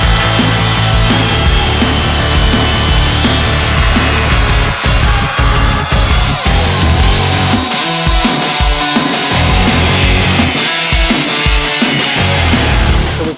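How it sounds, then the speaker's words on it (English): An angle grinder cuts into the frame of a brand new KTM 85 motorcycle, a loud continuous harsh grinding and rasping that runs the whole time with shifting pitch and intensity and no talk. "We'll get back on the angle grinder and cut more out of this brand new 85."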